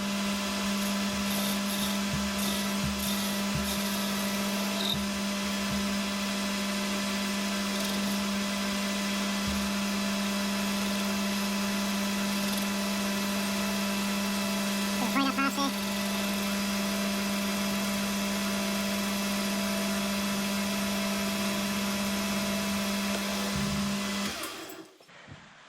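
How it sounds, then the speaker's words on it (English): A lathe machines a metal disc for a wobbler engine, its motor giving a steady, loud whining hum with a cutting rasp throughout, before winding down and stopping at the end. "So I'm going to put this in the lathe and try and clean it up and get a disc out of it."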